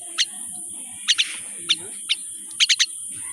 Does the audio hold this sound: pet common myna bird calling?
yes